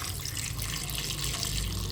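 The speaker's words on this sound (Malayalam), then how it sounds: "അതിലേക്ക് ഒരു ഗ്ലാസ് വെള്ളം ഒഴിച്ചു കൊടുത്ത്" A glass of water pours onto mango pieces in a cooking pot, a brief, soft, steady splashing rush.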